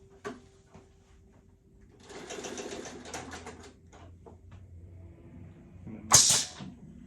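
Stitching from a sewing machine run slowly with its reverse lever in use, a quiet textured whirring lasting about two seconds, followed by scattered clicks and a sharp louder burst near the end.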